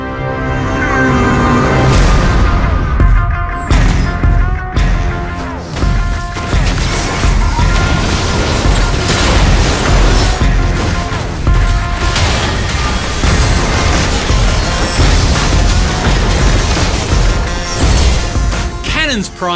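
Dense, loud barrage of booming cannon blasts and crashing impacts layered over game music, relentless throughout, from League of Legends' Ultra Rapid Fire mode.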